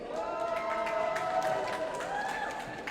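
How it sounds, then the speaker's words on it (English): Roller derby fans in the stands cheer for the Rockcity Rollers from Eindhoven, producing a sustained wash of crowd noise with scattered clapping and raised voices throughout. "Who is cheering for Rockcity?"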